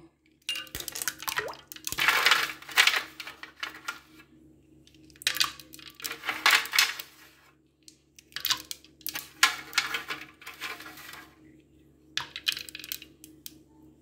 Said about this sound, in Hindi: अब इसमें हम आइस डाल देंगे